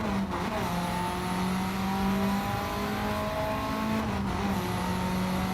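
Video game race car engine held high above 7,000 RPM, a sustained loud whining drone with shifting pitch and brief dips as gears change, continuous and without speech.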